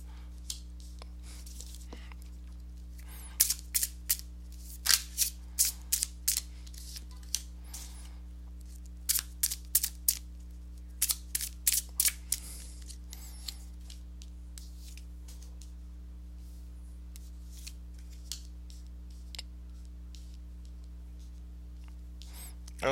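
Tarot cards shuffled by hand close to the mic, several quick bursts of crisp riffling and snapping separated by pauses, over a low steady hum.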